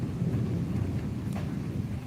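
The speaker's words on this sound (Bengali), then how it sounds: "এখন বৃষ্টি কিছু কমেছে, তবে বজ্রপাত হচ্ছে" A low, continuous rumble of thunder rolls beneath a steady wash of heavy morning rain, deep and fairly close, with no voices.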